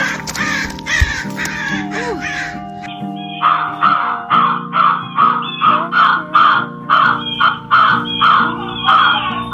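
A crow near a farm barn gives a long series of loud, harsh caws in a steady rhythm of about a dozen calls, close by, after a brief stretch of mixed background sound.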